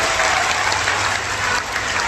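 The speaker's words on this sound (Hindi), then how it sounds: "जो दे रहे उनके लिए जोरदार ताली बजा करके धन्यवाद दो।" A large crowd at a Bageshwar Dham religious gathering in Nagpur applauds loudly, a dense, steady roar of clapping that fills the whole moment without pause.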